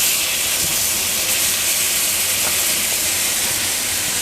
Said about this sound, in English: Get that butter going. We're not going to baste it like a steak.